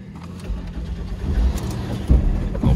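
A Ford Escape with an EcoBoost engine idling close by: a low, rumbling engine drone with small surges in level and a couple of brief louder bumps near the end.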